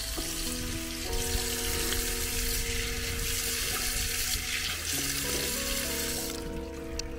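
Drinking water running from an outdoor tap at a playground, a steady broadband splashing stream that continues throughout, with tonal hum and background noise beneath and no speech.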